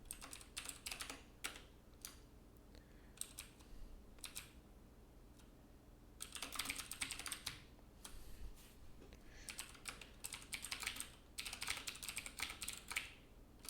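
Quiet typing on a computer keyboard comes in irregular bursts of rapid key clicks separated by short pauses, close and faint.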